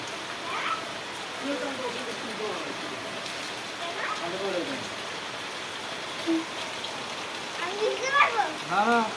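Steady rain falls and washes over a muddy plastered yard, a constant hiss throughout, with a child's and adults' voices speaking intermittently over it.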